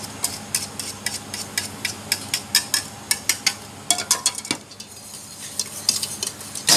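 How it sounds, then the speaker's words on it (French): A lemon tart filling of eggs, sugar and butter is stirred briskly in a pan, a steady run of close, rhythmic utensil clicks and scrapes about twice a second against a faint background hiss, with no talking. "On mélange tout ça et on va remettre à cuire."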